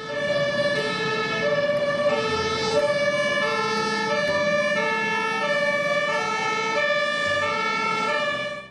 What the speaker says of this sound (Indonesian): Di sini ada mobil water cannon.